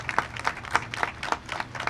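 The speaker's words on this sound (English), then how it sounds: "Let's give them a round of applause" Crowd applause at a government housing construction announcement, a modest, somewhat sparse patter of clapping with distinct claps standing out, fairly distant and moderately quiet.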